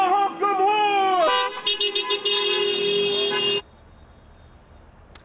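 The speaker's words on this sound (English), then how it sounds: "Let me hear y'all honk them horns!" Car horns honk in several long blasts and shorter toots at a get-out-the-vote rally in Pennsylvania, loud and close, then cut off to near silence.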